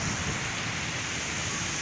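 During an evening thunderstorm in a flooded neighbourhood, heavy rain pours down in a steady, dense hiss, with a low rumble of thunder underneath it, all close and loud.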